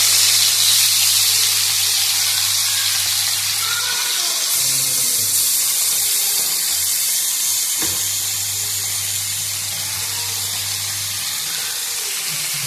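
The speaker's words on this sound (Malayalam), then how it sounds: "നമുക്കിനി വറുക്കാനുള്ള വേളൂരിയും കൂടി വറുത്തെടുക്കാം കേട്ടോ." Velloori fish sizzles and fries in a pan with shallots, a loud, steady hiss of hot oil that runs throughout with a brief clatter near the middle.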